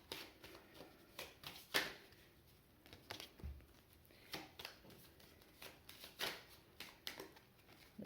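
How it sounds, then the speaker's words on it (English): Tarot cards being shuffled by hand, with soft, irregular riffling and patting bursts, quiet and close, with no talking. "focus on the cards and give them a shuffle"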